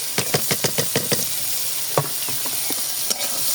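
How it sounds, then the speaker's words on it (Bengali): Chopped onion tossed into hot oil in a pan of frying red chicken curry, giving a steady close sizzle with a run of quick stirring knocks at the start and a few scattered taps later. "এখন আমি পেঁয়াজটা দিয়ে দেবো।"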